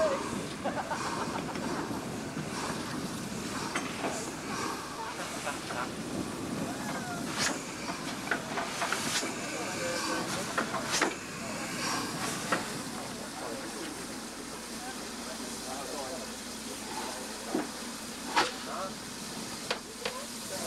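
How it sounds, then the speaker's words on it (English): Great Western 4566, a 2-6-2 steam tank engine built at Swindon in 1924, hisses steadily at a station on British railways in 1991, with a broad continuous steam wash, occasional clanks and murmuring voices in the background. "Here's our first engine of the day, Great Western engine number 4566, a 262 tank engine built in 1924 at Swindon."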